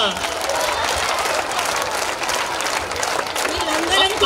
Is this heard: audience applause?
yes